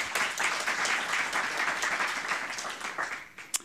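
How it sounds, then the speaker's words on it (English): An audience at a health policy event applauds Georges Benjamin, a steady wash of clapping from many hands at moderate distance that tapers slightly toward the end, punctuated by one sharp closer clap. "So a big round of applause for Georges Benjamin here."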